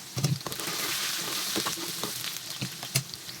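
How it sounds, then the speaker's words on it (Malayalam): Mustard seeds fry in hot oil for a chickpea curry, a close, busy sizzle with scattered sharp pops and crackles throughout, and no talking over it. "കടുക് വറക്കാം"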